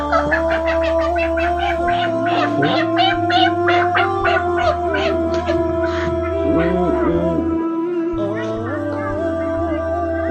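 Broiler chickens about 24 days old on a poultry farm make a dense, continuous chorus of overlapping clucks and calls up close, over a low steady hum.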